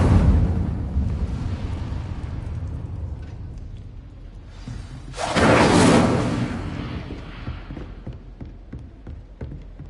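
An Incendio fire spell in Hogwarts Legacy bursting with a loud whooshing flare that swells for about a second, then trails off into scattered crackles and taps over a rumbling game background.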